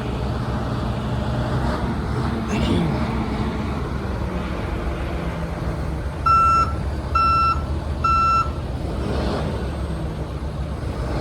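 A truck unloading from a tri-axle lowboy RGN trailer sounds three short, shrill reversing beeps over a continuous low engine rumble.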